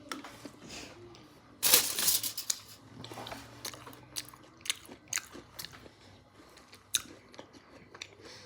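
Someone bites and chews a Moser Roth Belgian caramel biscuit milk chocolate bar with crunchy biscuit pieces: a loud crunchy snap early on, then scattered close crackly chewing crunches.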